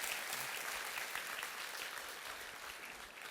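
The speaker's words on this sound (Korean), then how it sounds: "여러분 뜨거운 박수로 맞아주시기 바랍니다" Soft, steady applause from a church congregation welcoming a guest speaker, a dense even patter heard at a distance and fading slightly toward the end.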